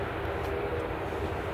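An Emirates airliner taxiing toward the runway at Manchester Airport in the early morning gives a steady, broad jet-engine roar, constant and unbroken throughout, with no voices.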